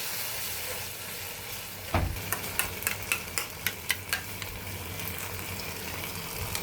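Tomato paste cooks down with chili and spices in a pan, giving a soft, steady sizzle. A run of sharp, regular ticks from a utensil scraping and stirring starts partway through.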